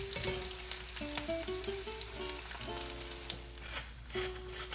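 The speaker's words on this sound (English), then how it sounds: "Now I start browning the onions because this takes a bit of time, and I brown them in melted ghee." Chopped onions browning in melted ghee, a steady close sizzle and crackle of frying fat throughout, with faint stirring and clinks over a soft low kitchen hum, no voices.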